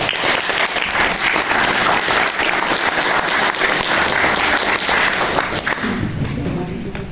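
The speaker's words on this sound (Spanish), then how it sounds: "a quien nos recibimos con fuertes palmas" An audience at a book presentation breaks into loud, sustained applause, a dense wash of clapping that holds steady before tapering slightly as a voice begins near the end.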